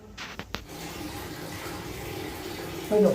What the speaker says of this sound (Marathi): पाण्याचा आवाज येतो